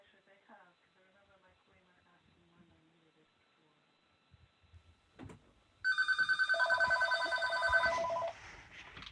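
A telephone rings loudly in a steady electronic pattern for about two seconds after quiet speech and faint background noises, then stops.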